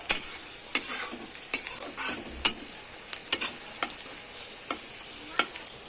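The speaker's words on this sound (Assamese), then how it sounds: "ভালদৰে ভাজি ল'ম আদা নহৰু আৰু পিঁয়াজৰ লগত গোটেইখিনি ধুনীয়াকৈ মিহলাই কিনে মই ভালদৰে ভাজিম" Pork with bamboo shoot, ginger, garlic and onion is stir-fried in a pan, a soft continuous sizzle broken by repeated sharp scrapes and clicks of a spatula at a steady stirring rhythm.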